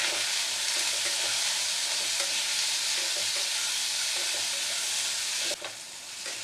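Potatoes and chopped medium onion fry together in a pan for a fish-head curry, giving a loud, steady sizzle with occasional stirring scrapes, alone without talk.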